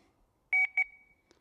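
Power Probe circuit tester touched to a wire on a Toyota 4Runner, giving a few quick high electronic beeps in close succession, then quiet.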